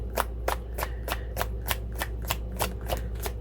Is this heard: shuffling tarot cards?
yes